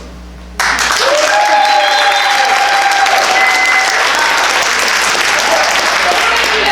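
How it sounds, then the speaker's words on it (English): A theater audience at a community production of The Mystery of Edwin Drood bursts into loud, sustained applause after a brief quiet moment, with a few whoops and cheers rising above the dense clapping. "Applaud for your favorite."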